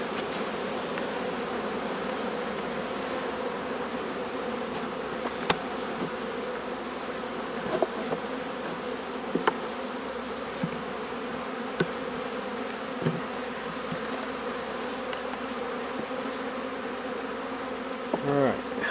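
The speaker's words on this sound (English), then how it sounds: "Just solid bees." Honey bees buzz continuously in an open hive, a dense, close, steady drone with occasional faint clicks and knocks.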